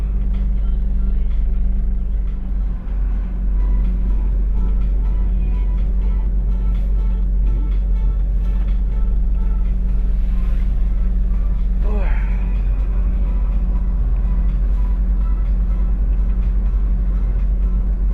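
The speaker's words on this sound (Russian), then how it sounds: "Добро пожаловать в пробки глазами водителя." From inside a grocery delivery truck's cab in a Novosibirsk city traffic jam, a loud, steady low engine drone rumbles on without a break, and a brief squealing sweep rises briefly around the middle.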